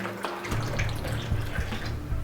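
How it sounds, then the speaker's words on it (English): Roughly a litre of water pours into a bowl with a continuous splashing, gurgling rush that stays fairly loud and close throughout. "For about a litre of water, let's just drop that straight into the bowl."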